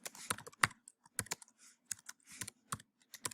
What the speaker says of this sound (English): Type in my email address